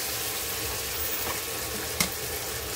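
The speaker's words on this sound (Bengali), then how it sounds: "এবার আমি দিয়ে দেবো এখানে চিকেনটা, ম্যারিনেট করে রাখা চিকেনটা দিয়ে দেবো" Marinated chicken dropped into a pan of fried onions, giving a steady close sizzle and frying hiss with a brief sharp crackle partway through.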